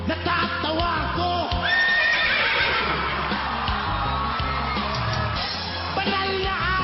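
A person mimics a horse's neigh with repeated whinnying whoops and yells, loud and close, with a busy backdrop of other voices and noise.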